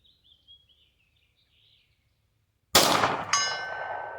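A Makarov pistol fires at a steel target 100 yards away, giving two sharp reports each followed by a metallic clang and ringing, after faint birdsong in an otherwise quiet outdoor setting.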